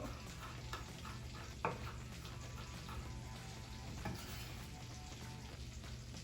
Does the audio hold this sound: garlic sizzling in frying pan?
yes